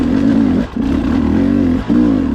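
A 2021 Beta 300 RR dirt bike engine climbs a hill, revving loud and close with a wavering pitch and two brief dips in throttle.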